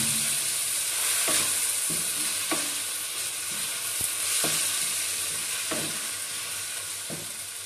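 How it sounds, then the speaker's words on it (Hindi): Chicken for Patiala chicken roasting in a pan under a steady sizzle, with a spoon scraping and stirring in regular strokes about once a second, close and alone. "चिकन को अब हम अच्छे से भून लेंगे।"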